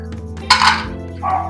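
Cashews, almonds and raisins drop into hot ghee in a pan, giving a short loud burst of sizzle and clatter, then a second softer frying hiss over a low steady background hum.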